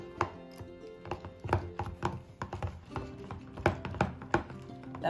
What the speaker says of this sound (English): And I'm gonna stir that up.